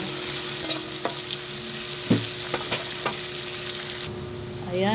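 Garlic and onion fry in a pan in a simple home kitchen, giving a steady close sizzle. A few sharp clacks of a utensil stirring against the pan sound over it, with no talking.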